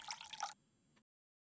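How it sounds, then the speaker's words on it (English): Water poured into a car radiator in the post-apocalyptic driving game Nomad Drive: a short, close burst of splashing, dripping liquid for about half a second, then a faint trickle before it cuts to silence. "we can just put water into the radiator"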